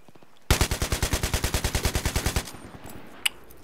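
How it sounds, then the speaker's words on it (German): Rapid automatic gunfire from a weapon in the Battlefield 3 beta, a loud sustained burst of about twenty evenly spaced shots lasting two seconds, then quieter game ambience with a single sharp crack near the end. "gerade mit allem, was ich habe, auf sie drauf schieße"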